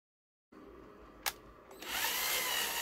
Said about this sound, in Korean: 드릴을 이용하여 구멍을 만들어줍니다